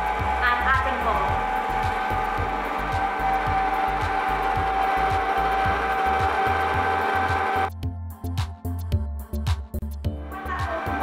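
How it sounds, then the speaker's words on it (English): An electric mixer whisks cake batter as eggs are added, a loud steady motorized whir with rhythmic beater knocks, then cutting out near the end into quieter clattering; a voice speaks over it. "I'm just going to keep whisking it and adding more"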